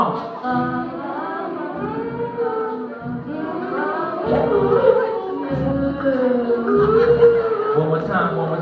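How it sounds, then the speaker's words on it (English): A crowd hums together in a sustained, wavering tone at a live performance, swelling in pulses and growing louder toward the end. "Everybody hum along, hum along."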